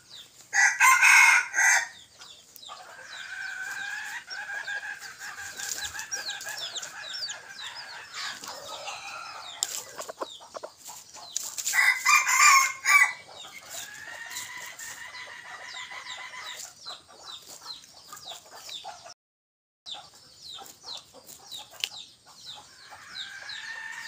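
A young Thai decoy rooster crows repeatedly and loudly close by, its long calls coming in bursts with brief clucks and rustling between them, and no voices present.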